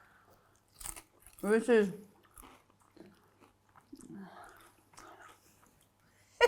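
Someone bites into crispy fried crab rangoon, giving a few close, loud crunches amid quiet chewing, with soft speech before and after.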